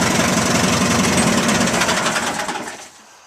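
A 1973 Terra Jet's engine chugs with a rough, knocking idle close by, then winds down and dies into silence as it is shut off.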